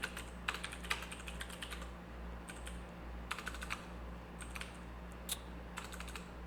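Bursts of typing on a computer keyboard at a trading desk, clusters of quick clicks separated by short pauses, moderately close over a steady low electrical hum, with no talking.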